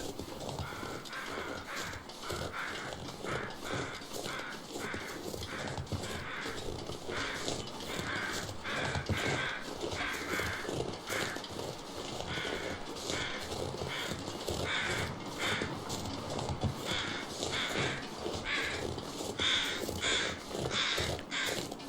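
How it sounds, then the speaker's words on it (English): Crows caw repeatedly in a steady, noisy outdoor game soundscape from The Long Dark's Far Territory, the calls moderately distant and scattered over constant wind-like background hiss. "I hear all the crows."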